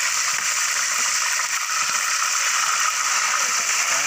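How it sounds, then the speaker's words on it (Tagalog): Continuous loud hissing sizzle of half a chicken frying in hot oil, steady and close throughout with no pauses. "lagay na natin sa kumukulong mantika natin"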